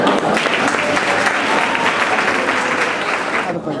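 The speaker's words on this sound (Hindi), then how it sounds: "ताली बजाओ।" A seated audience at a motivational talk breaks into steady, dense applause that fills the room loudly and evenly for several seconds before cutting off near the end.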